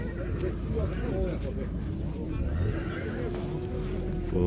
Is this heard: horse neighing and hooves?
yes